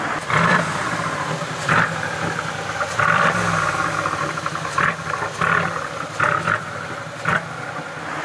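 A 4x4 fitted with a custom exhaust system runs steadily, a throaty engine drone broken by several short revs that swell and fade, close by and with no talking.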